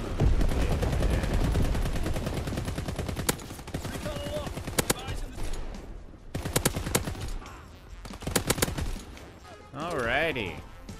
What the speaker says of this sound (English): Well, there's a Mad Lad using the machine gun, that's for sure.